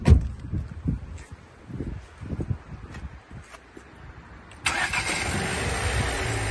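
A 2021 Renault Captur starts with its original key: a series of cranking pulses, then the engine catches and settles into a steady close idle.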